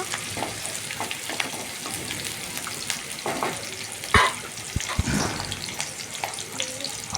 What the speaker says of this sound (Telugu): మీడియం ఫ్లేమ్లో పెట్టుకొని గ్యాస్ని ఈ విధంగా కలుపుకుంటూ డీప్ ఫ్రై చేసుకోవాలండి